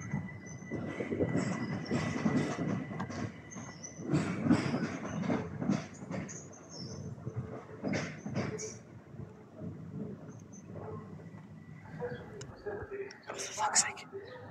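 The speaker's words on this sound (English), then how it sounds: "Service goes into the tunnel." A Class 395 passenger train departs Dover Priory station toward a tunnel, its rumble and wheel clatter moderately close with some squeal at the end, while people talk nearby.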